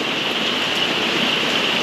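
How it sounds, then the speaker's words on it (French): Heavy rain driven by gusty wind in Martinique roars as a loud, dense, unbroken hiss with no voices. "quand il pleut beaucoup comme ça et qu'il y a des rafales"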